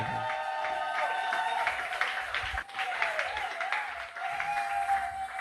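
A church congregation applauds together, a steady wash of clapping that fills the room with a brief dip partway through, continuing evenly throughout.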